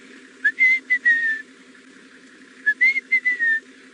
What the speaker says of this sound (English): A rufous-naped lark. I can hear him calling.